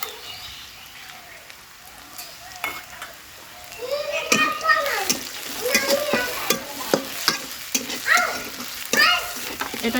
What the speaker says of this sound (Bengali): কিছুক্ষণ ভেজে নিব